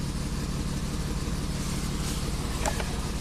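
A Mitsubishi Montero 4x4 engine idles close by as an even, unbroken mechanical drone, with a brief faint tick near the end and no voices.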